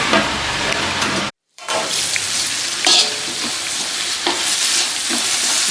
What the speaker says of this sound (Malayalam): നമ്മൾ സവാള വഴന്നുകൊണ്ടിരിക്കുന്നുണ്ട് കേട്ടോ.